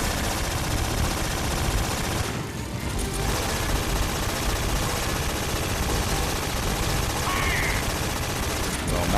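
Loud, continuous rapid gunfire in Metal Gear Solid 3, aimed at turbines, with dense overlapping shots and bursts that barely pause over nine seconds.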